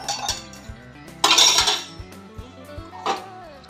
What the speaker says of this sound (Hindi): अब बचे हैं थोड़े बर्तन, इसको मैं साफ करूंगी।